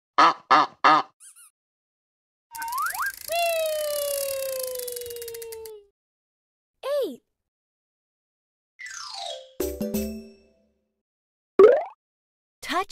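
A cartoon goose in an animated children's learning song gives a few short honks, set among swooping, siren-like cartoon effects with silent gaps between them.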